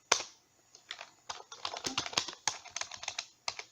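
Rapid keystrokes on a computer keyboard come through in irregular bursts of sharp clicks, close and fairly quiet, with no talking.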